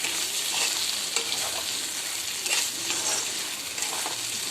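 Okra frying in a pan on low heat, a steady close sizzle broken by several soft scraping stirs as the vegetable is turned over, with no talking.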